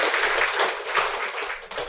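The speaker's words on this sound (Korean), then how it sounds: "큰 박수로 환영하도록 하겠습니다." A church congregation gives a brief burst of steady, dense applause to welcome newcomers, heard close and continuous.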